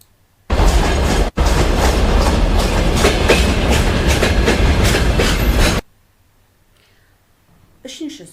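Railway wagons being shunted back at a sorting station roll past loud and close for about five seconds with a rumbling clatter, then cut off abruptly to near silence, with a faint noise near the end.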